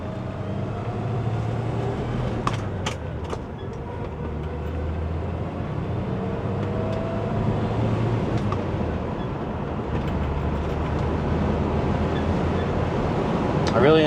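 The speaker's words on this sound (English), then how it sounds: "I really enjoy the smooth power this engine puts out." A 1966 Pontiac Tempest with the Sprint Six overhead-cam engine and fiberglass-reinforced timing belt idles steadily nearby, a continuous low rumble with even tone throughout, no talking over it.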